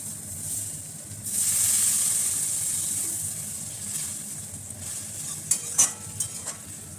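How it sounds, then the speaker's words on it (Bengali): Water is poured into a pan of frying vegetables for a home-cooked lunch, setting off a loud, sustained hiss and sizzle close by. A few sharp utensil clinks follow near the end, with no talking. "এবার আমি জলটা দিয়ে দেবো।"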